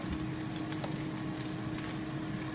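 Ground turkey browning in a pan on a hot stove, giving an even, continuous low sizzle and crackle at moderate volume with no voices.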